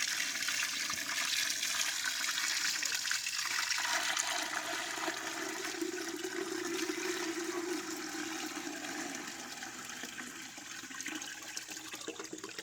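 Clay slurry water pours through a sieve while making DIY clay, a long, steady rushing and splashing flow that stays close and fairly loud throughout with no talk.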